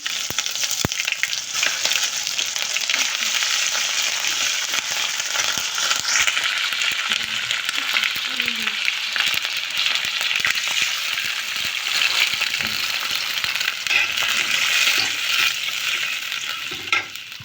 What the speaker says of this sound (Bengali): মাছটা ভালো করে কষানো হয়ে গেছে